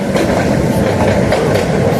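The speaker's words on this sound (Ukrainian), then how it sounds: "А ось трамвайчик їде." A tram rolls past on a city street in Kharkiv's Saltivka district, a loud, close rumble with rhythmic wheel clatter on the rails throughout.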